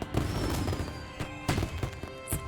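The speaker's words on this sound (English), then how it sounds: "Oh, fireworks." Fireworks bursting in an animated Legend of Korra episode, several sharp cracking pops spaced over a couple of seconds against a steady background bed.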